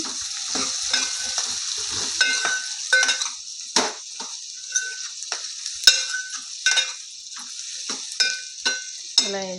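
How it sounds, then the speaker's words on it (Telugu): Bottle gourd pieces fry in oil on a low flame with a continuous bright sizzle, while a utensil scrapes and clatters against the pan in irregular stirring strokes; no speech. "సొరకాయ ముక్కలు అయితే ఇలా నూనెలో వేసి చిన్న సిమ్లో పెట్టుకొని అయితే చేసుకోవాలి ఇలా ఫ్రై చేయాలి"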